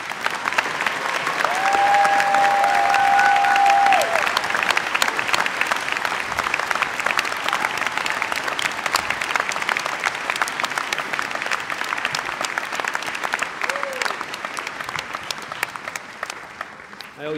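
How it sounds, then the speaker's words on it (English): Sustained applause from a large audience at a school graduation ceremony, loud and continuous with crisp individual claps, faint voices and a brief whistle or cheer mixed in. "Let's give them all a big round of applause."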